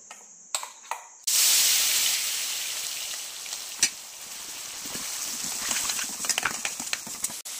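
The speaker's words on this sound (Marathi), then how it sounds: "आता हे तेल तापलंय, मी आता हिरवा मसाला कढवून घेते।" Green masala paste hits hot oil in a pan with a sudden loud sizzle after a few quiet clicks, then keeps frying in a steady close hiss dotted with sharp crackles and pops.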